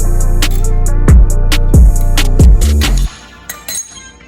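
A metal washer comes off a golf cart lift-kit bracket and drops, giving a string of bright, ringing clinks with three heavier bouncing hits on a hard surface before it settles and falls quiet.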